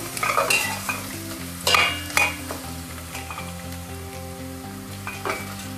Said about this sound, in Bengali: আমি এগুলো ভেজে নিচ্ছি এবং নাড়া দিচ্ছি।